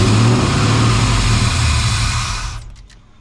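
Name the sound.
1992 Chevy C1500 with LS1 engine swap running after first start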